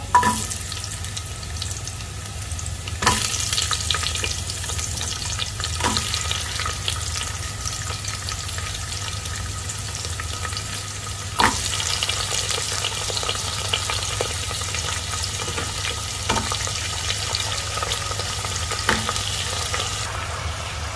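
Vegetables sautéing in hot oil for a Kerala-style butter sambar, stirred with a ladle: a steady close sizzle runs throughout, broken by a few sharp scrapes and clanks of the ladle against the pan.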